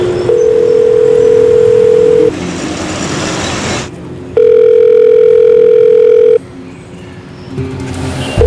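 A telephone gives loud, steady electronic tones in long sustained bursts separated by short gaps, sounding on its own with no voices.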